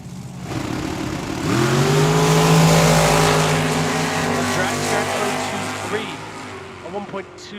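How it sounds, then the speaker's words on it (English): A blower dragster launching down the right lane of the drag strip at Tucson Dragway, a loud roaring engine that swells and then fades as it pulls away, with a voice talking over it near the end. "Sounds like a car that's got a lot of horsepower, ready to go very fast there in that right lane, that dragster."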